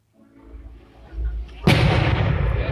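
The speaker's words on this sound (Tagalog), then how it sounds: "sakto yung pagdating namin, mayroong fireworks display" A fireworks display at a celebration in Taiwan: a low rumbling build-up of distant booms leads to a loud, close burst that breaks into a sustained crackling roar.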